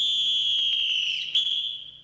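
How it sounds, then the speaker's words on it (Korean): A sharp, piercing wake-up whistle shrills continuously for about two seconds in a Marine Corps boot camp barracks at dawn, with a brief warble near the end. "날카롭게 기상 호루라기가 울렸다."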